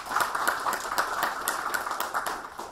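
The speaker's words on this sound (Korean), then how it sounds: "다시 한번 큰 박수 부탁드립니다" A modest audience claps after Ahn Cheol-soo's political lecture at a People Power Party event, a thin scattering of individual hand claps, fairly close and uneven in rhythm, without talk.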